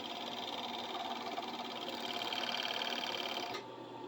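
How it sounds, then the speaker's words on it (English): A sewing machine runs a zigzag stitch along a fabric edge, giving a steady fast whirring hum close by that continues evenly for about three and a half seconds and then eases off, with no speech over it. "Zigzag stitch along the edge, you go over it twice."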